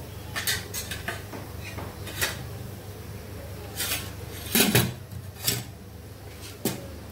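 Rice being served onto a plate at home, with a few sharp clinks and scrapes of a spoon against dishes scattered over a low room hum, close and moderately loud, no talking.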